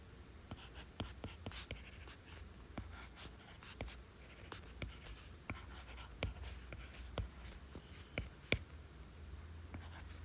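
A pen or chalk taps and scratches steadily while a diode circuit is redrawn for a physics problem, with a quiet run of strokes over a soft hiss.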